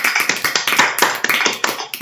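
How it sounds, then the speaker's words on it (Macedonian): Hands clapping in a quick, fairly even series of sharp claps, about eight to ten across two seconds, close and loud with no voices. "Плескање со рачињата."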